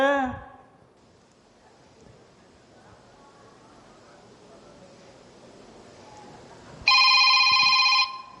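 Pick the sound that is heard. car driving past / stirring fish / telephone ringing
telephone ringing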